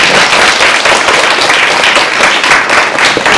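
A lecture audience gives a speaker a big round of applause at an orientation event, loud, dense, continuous clapping from many hands throughout.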